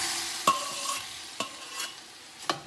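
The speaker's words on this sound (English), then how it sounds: "Okay, now I'm gonna throw the ham in." Ham frying in a pot for split pea soup makes a quiet, steady crackling sizzle, with three or four sharp scraping stirs of a spoon against the pot bottom.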